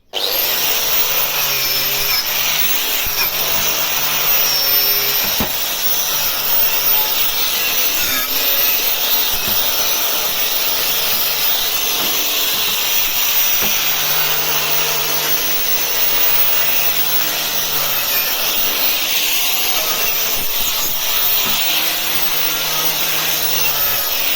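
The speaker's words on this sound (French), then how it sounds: "vous prenez une brosse telle que celle-ci avec une meuleuse, et puis vous venez simplement passer un coup" An angle grinder fitted with a wire brush scours the metal firebox of a Godin 3726 stove before new refractory bricks go in, giving a steady, loud abrasive whir with brief dips in pressure throughout.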